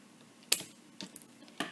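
A pipe cleaner snipped with small scissors, two or three sharp, brief close clicks separated by quiet pauses.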